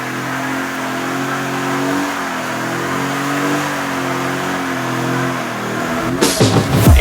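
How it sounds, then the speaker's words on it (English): A HEMI 392 V8 in a Jeep Gladiator starts and rumbles with a deep, throbbing idle, then revs up sharply and loudly in the final second. "hear that V8 come to life in the Jeep Gladiator"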